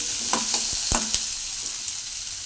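Chili frying and sizzling in oil in a pan during home cooking, with a steady close hiss broken by a few sharp stirring knocks and pops near the start.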